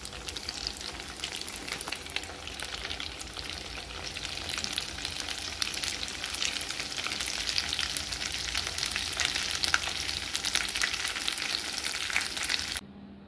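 Peanuts, green chilies and grated raw potato frying in hot oil, a steady dense crackling sizzle that holds for about thirteen seconds, with no talk, before cutting off abruptly at the end.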